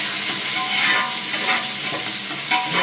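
Onion, garlic and green chillies sauté in a pan for kuzhambu, a continuous close sizzle with the scrape of stirring passing through it.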